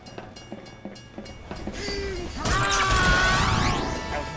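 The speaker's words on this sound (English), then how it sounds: "I think there's a train coming." A train approaches in a video game, a rising rumble and metallic screech swelling from faint clicks into a loud, sustained roar with squealing tones.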